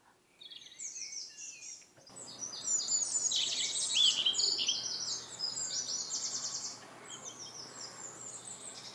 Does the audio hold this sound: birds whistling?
yes